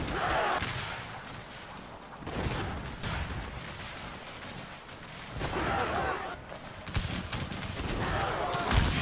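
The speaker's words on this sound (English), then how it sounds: "Right, I'll take control and fire the gun myself." Video game gunfire as a player takes control and fires the gun himself, sustained bursts of shots recurring across the span, loud and dense, with faint talk mixed in.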